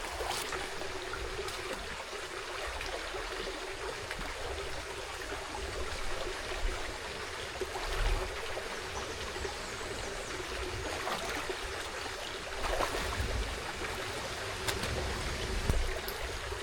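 A small outdoor stream flowing and trickling steadily, a close, continuous babble with slight surges and no voices.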